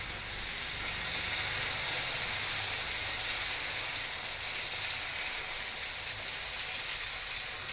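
Set dosa batter spread thick on a hot griddle hisses in an even, unbroken sizzle, steady and moderately quiet throughout.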